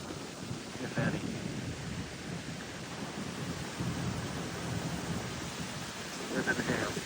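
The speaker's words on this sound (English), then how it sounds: "Pretty cool line of storms." A severe line of storms near Dodgeville, Wisconsin, with distant rumbling thunder and steady rain and wind noise throughout, swelling into two louder rolls.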